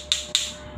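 Two sharp taps on a moonstone, about a quarter second apart, each a bright clicky strike with a brief ringing tail, heard close and alone against a quiet background.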